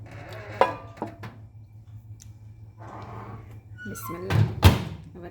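A microwave oven door shuts in a home kitchen while eggs are being poached, giving a few sharp knocks and clunks with a louder thud near the end, over a low steady hum, with brief speech.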